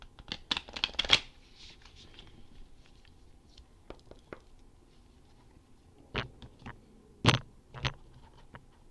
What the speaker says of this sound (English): so I'm only going to shuffle it a couple more times